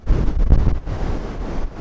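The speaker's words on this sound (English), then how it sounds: "of the outgoing waves" Outgoing ocean waves wash back out over the sand on White Rocks Beach at sunrise, a continuous rushing surf with heavy wind buffeting the microphone throughout and no voices.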